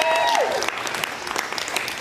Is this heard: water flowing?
no